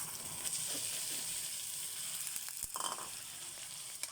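Pork and pork fat fry in a pan with a steady, close sizzle and a few brief stirring clatters partway through, no voices heard.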